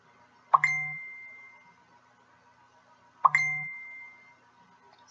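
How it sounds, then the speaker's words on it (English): Two identical phone notification chimes, each a bright ding with a short ringing tail, spaced about three seconds apart over near silence. "let me turn my phone noises off"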